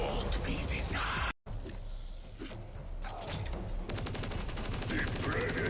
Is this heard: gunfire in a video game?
yes